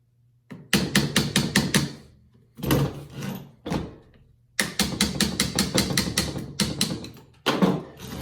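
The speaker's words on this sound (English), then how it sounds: "One punch, one hammer, you knock this pin out." A hammer drives a punch to knock a pin out of a Hatsan Vectis air rifle, producing close, loud bursts of rapid metallic taps separated by short pauses.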